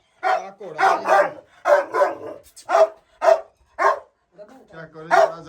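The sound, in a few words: dogs barking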